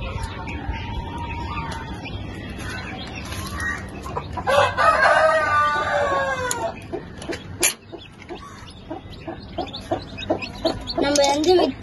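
Chickens cluck repeatedly nearby with short bursts, a rooster crows briefly, and soft background noise continues throughout, as an incubator-hatched chick is brought to a mother hen.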